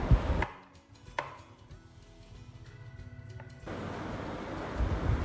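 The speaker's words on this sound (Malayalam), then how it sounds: "രണ്ട് തക്കാളിയും കൂടെ ഇട്ട് കൊടുക്കുന്നുണ്ട് അപ്പോൾ അതൊന്ന് കട്ട് ചെയ്തെടുക്കട്ടെ" A knife cuts two tomatoes on a board in a home kitchen: a few sharp, separate chops close to the mic, set against low background noise that grows louder toward the end.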